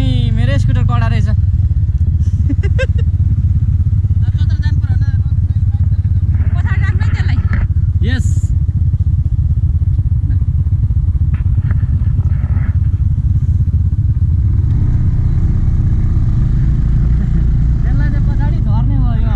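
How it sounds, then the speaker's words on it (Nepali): Engine of an old, worn-out scooter running steadily while being ridden, a loud continuous low drone throughout, with someone talking over it at intervals. "थोत्रे भए पनि मेरै स्कुटर कडा रहेछ"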